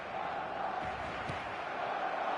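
A stadium crowd in the eFootball video game keeps up a dense, steady roar of calling voices, fairly loud and unbroken, with a faint shout rising briefly partway through.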